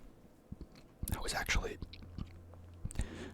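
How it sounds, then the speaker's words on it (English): Close-up chewing and biting of a Subway steak sandwich, wet mouth sounds in bursts with soft whispering alongside. "I'm chewing a lot in my mouth with these things"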